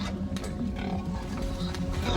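Several pigs being trucked to a slaughterhouse, some of them near death, grunt and oink. The grunts are dense and overlapping, with a low rumble underneath, continuous and close throughout.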